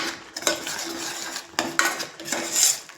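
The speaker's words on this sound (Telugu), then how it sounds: "ఇలా మసాలా మొత్తం మిక్స్ చేసుకోవాలి." Masala for paya curry being stirred in a pan, with a metal spoon repeatedly scraping and clinking against the pan in irregular strokes, close and fairly loud, over a soft background sizzle.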